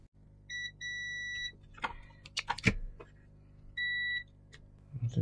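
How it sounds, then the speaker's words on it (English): A multimeter switched to continuity mode gives three sharp, steady electronic beeps while a circuit-board switch is tested. The first two follow each other closely and the third comes a few seconds later, with quiet handling clicks and taps in between. "Let's put the multimeter in continuity."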